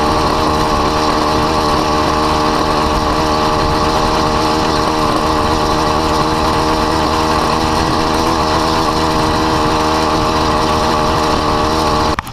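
Modified two-stroke engine fitted to a bicycle, with a big carburettor, reed valve box, ported piston, modified cylinder and cut exhaust, running loud and steady with a harsh, buzzing high-revving drone that holds throughout before cutting off at the very end.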